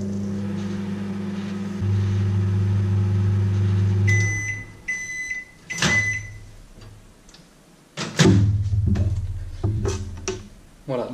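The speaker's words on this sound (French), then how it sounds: "on va très simplement en fait le réchauffer avec un micro-ondes par un coup de 20 secondes" A microwave oven runs at full power to heat mirror glaze, giving a steady hum that stops with a series of bright beeps. A door clunk and clattering handling sounds follow, with some talking.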